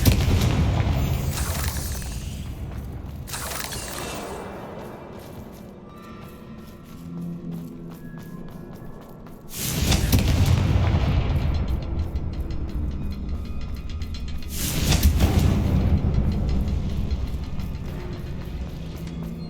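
Confringo spell blasts in the game Hogwarts Legacy, deep booming explosions with rumbling tails, one early and two heavy ones later, set over a continuous game backdrop.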